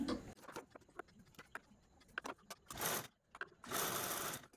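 A sewing machine stitches a folded fabric handle made from old lace and saree material, running in short whirring bursts with clicks and pauses between, loudest in two longer runs near the end.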